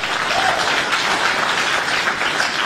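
A crowd claps at a Ron DeSantis campaign meet-and-greet, giving steady, even applause throughout without a break, heard from a distance in a room.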